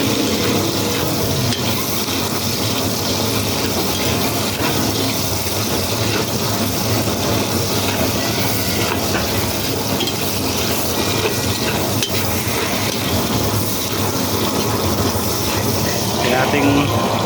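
Onions saute in a pan for goat kaldereta, a continuous wet sizzle and stirring clatter close by that runs throughout, busy and fairly loud, with a voice speaking at times over it.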